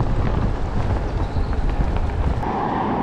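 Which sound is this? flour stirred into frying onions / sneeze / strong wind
strong wind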